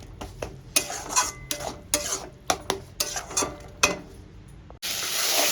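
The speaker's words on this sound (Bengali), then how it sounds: "মশলাটা আমি ভালো করে কষিয়ে দিচ্ছি" A spoon scraping and stirring spice masala in a pan, with repeated sharp metallic clinks in an irregular rhythm, followed by a sudden loud burst of sizzling frying.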